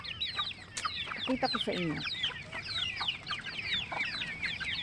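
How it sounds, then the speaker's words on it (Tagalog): A flock of young broiler chickens clucks and peeps continuously up close on a provincial farm, busy overlapping chirps, while a person speaks briefly over them. "kukuha kami ng mga reject na manok"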